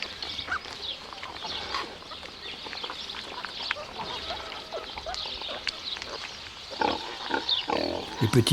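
Piglets crowd around a sow's teats while suckling, grunting and squealing in a busy, continuous jumble, with sharper squeals bursting out toward the end.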